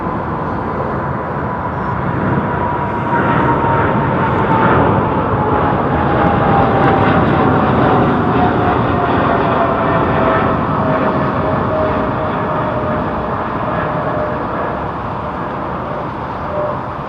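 An airliner with raked wingtips roars at London Heathrow Airport, a loud, steady broadband jet rumble with a slowly falling whine as it passes close by.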